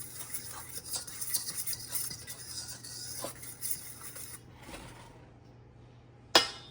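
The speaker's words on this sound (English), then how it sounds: "Give that a good little stir to make sure everything is mixed in." Dry ingredients for savory cheddar and herb scones are stirred in a bowl, giving close, rhythmic scraping and light clinks of a utensil, fading out before a final sharp knock.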